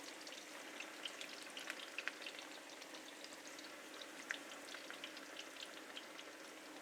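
Aubergine (eggplant) frying in about a centimetre of olive oil, a soft, continuous crackling sizzle with scattered pops, quiet and steady with no talking.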